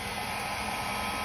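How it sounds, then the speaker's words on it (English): A blow dryer on its cool, low setting blows wet paint across a tile in a steady, close, breathy whoosh that continues unbroken throughout. "now it's time to grab my blow dryer on cool setting and blow this puppy out"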